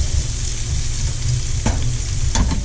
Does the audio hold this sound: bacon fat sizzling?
yes